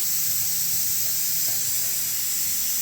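Steamed colocasia leaf rolls fry in hot oil, giving a steady, loud hiss that stays even and continuous for the whole short stretch, with no voices.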